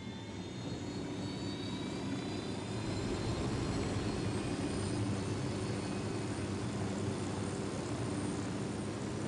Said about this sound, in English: Alright, we're gonna take the chopper.